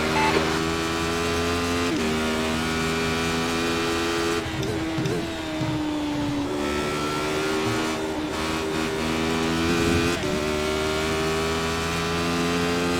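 A Radical SR8 race car engine in iRacing at Oulton Park, a loud sustained high-pitched whine that rises and drops through gear changes and braking, dominant throughout with no talking.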